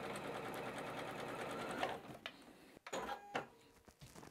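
A sewing machine stitches pieced quilt triangles together at a quarter-inch seam, running in a fast continuous whirring rattle, then stopping and restarting in short bursts near the end.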